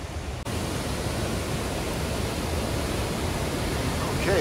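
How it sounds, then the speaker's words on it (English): Tubasan Falls on Camiguin in the Philippines roars in the rain, a dense, loud, unbroken rush of falling water close by, with a faint voice briefly emerging near the end. "we're at the Thundering Waterfall"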